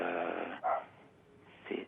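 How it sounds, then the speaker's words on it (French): A pet dog barks faintly in the background of a phone call to a radio talk show, two short muffled yaps coming just after a stretch of voice. "il y a mon toutou qui aboie."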